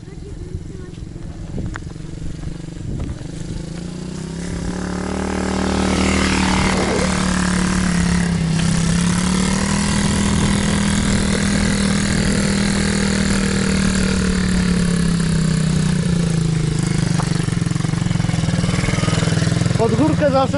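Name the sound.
motorcycle engine revving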